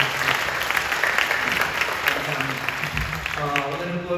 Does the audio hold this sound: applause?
yes